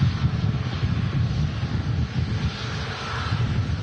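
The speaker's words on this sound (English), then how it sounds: "And now lining up on the runway 23 right is the Virgin Atlantic A350 1000" A Virgin Atlantic A350-1000 lining up on runway 23 right at Manchester Airport sends a steady low engine rumble across the field, mixed with wind buffeting the microphone, and no voices are heard.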